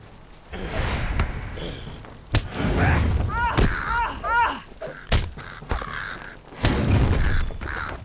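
Crebain crow-like birds caw repeatedly in Lord of the Rings Online, several rasping calls in a cluster mid-clip amid game thumps and ambient background sounds.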